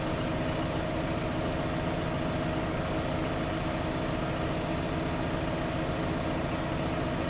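A 75 horsepower farm tractor engine idles steadily and close by, a continuous low diesel rumble with an even throb that holds for the whole stretch, with no voices over it.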